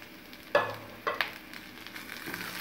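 Garlic, tamarind, dried red chillies and salt roasting in a pan for garlic chutney, with a soft steady sizzle and a few sharp clinks or stirs near the start and middle.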